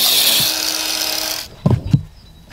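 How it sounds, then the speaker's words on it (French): An angle grinder cuts a 5 cm strip into façade render, a loud steady high whine that stops abruptly, followed by a couple of dull knocks. "Découpe donc une bande de 5 cm de largeur avec la meuleuse d'angle"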